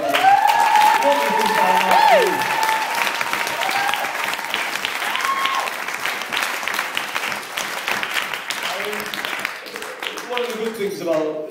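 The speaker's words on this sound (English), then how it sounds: "can we just take this opportunity actually, just to have a round of applause to both of them" Guests at a wedding break into a loud round of applause during a best man's speech, dense clapping with cheers and voices mixed in, fading slightly toward the end.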